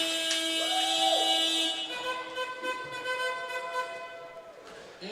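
An electronic end-of-quarter buzzer blares at a basketball game between Australia and the Netherlands, a sustained tonal blast that lingers and fades under crowd noise and commentary.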